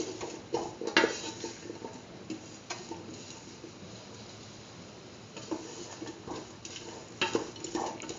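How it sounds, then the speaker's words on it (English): Grated coconut being stirred into a beetroot chickpea dip mixture, with soft scraping and intermittent clicks of a utensil against the bowl, fairly quiet and close, with no talking. "Thoroughly mix the grated coconut with the rest of the mixture."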